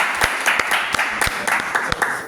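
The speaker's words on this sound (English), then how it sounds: "Ladies and gentlemen, again, give a round of applause for Lamar Ingram, who continues to redefine" An audience at a business talk applauds in a short, steady round of close clapping with a few sharper individual claps standing out, no voices over it.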